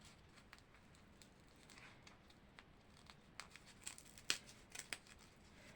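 Scissors cut through a knotted cord for a homemade decoration, faint handling rustles followed by a few crisp snips near the end.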